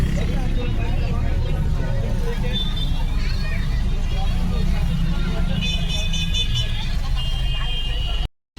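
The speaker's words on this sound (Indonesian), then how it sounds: "Busnya udah jalan ya teman-teman." Inside a sleeper bus travelling from Chhattisgarh to Mumbai in the rain with the windows shut, a steady low engine and road rumble continues throughout, with people talking over it before it cuts off abruptly.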